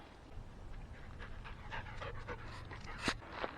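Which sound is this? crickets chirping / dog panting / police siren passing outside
dog panting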